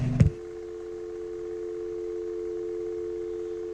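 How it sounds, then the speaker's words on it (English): A telephone line disconnects: a brief clunk, then a steady, continuous tone hums alone at moderate level for several seconds. "the phone would disconnect for a final time"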